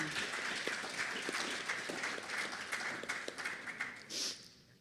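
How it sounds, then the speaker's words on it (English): An audience at a project launch event in Saint Kitts and Nevis gives a steady round of applause after a dance performance. The clapping is moderately loud and sustained, and it fades out at the end. "Let's give them another round of applause"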